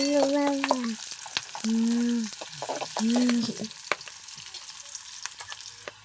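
Onion sautéing in a pan: a steady sizzle with scraping, stirring strokes and a few squeaky, tonal scrapes in short bursts, close and fairly loud, with no talking.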